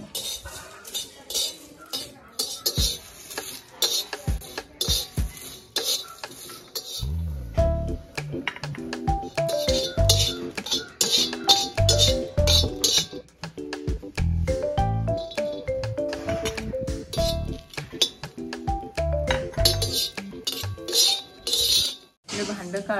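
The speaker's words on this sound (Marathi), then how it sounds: "हे सर्व मी मसाले आता भाजून घेणार। लोखंडी तवा आहे आपला, त्याच्यावरती भाजून घेणार।" Whole spices such as black pepper, coriander seeds, bay leaf and cinnamon roasting on an iron griddle over a wood-fired stove, with repeated metallic scrapes and clinks of a utensil rattling against the pan, close and fairly loud throughout.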